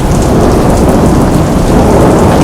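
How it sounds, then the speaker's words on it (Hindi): Heavy rain pours during Cyclone Biparjoy in Dwarka on the Gujarat coast, a loud, unbroken roar of downpour with low rumbling and no voices. "बहुत तेज बारिश है"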